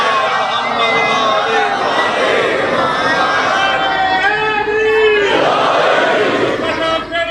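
Majlis congregation loudly chanting salawat together at a Rajab gathering, a dense, continuous roar of many voices in unison filling the whole stretch, close and powerful.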